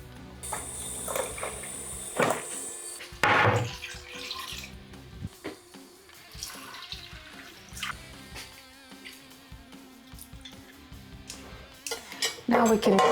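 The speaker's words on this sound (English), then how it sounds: "And now we need to add water." Water poured into a cooking pot over salt, smoked paprika, roasted onion, pepper and garlic, with splashing, pot and utensil clatter, and sharp bursts of clinking among steady kitchen noise.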